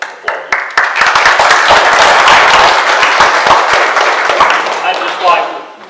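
Loud, dense applause from an audience honoring district teachers at a Teacher of the Year ceremony, sustained clapping with sharp individual claps standing out near the start and end.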